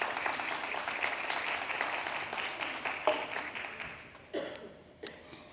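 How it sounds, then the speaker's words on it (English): Audience applause at a women's circle session of a business convention, a dense steady patter of many hands that fades out with a few last scattered claps. "If we can give Gugu a hand of applause."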